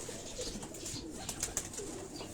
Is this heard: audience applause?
no